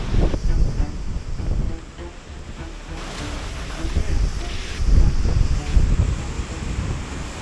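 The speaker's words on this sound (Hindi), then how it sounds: "बाकी ठंडी ठंडी हवा आ रही है यहाँ से।" Cold mountain wind gusts near Sheshnag, buffeting the microphone in uneven surges over rushing water flowing down from the lake, with a voice speaking at times.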